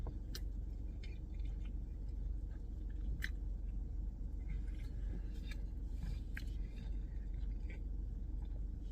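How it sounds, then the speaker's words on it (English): Close, steady chewing of a pork roll, egg and cheese breakfast sandwich from a deli, soft wet mastication with a low rumbling background and occasional faint clicks, no talking. "let me chew it up"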